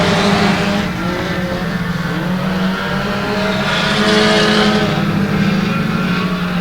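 Mini stock race cars in a heat race on the dirt track at Genesee, engines roaring loud and close with a sustained droning rev that rises and falls as the pack passes, no talking.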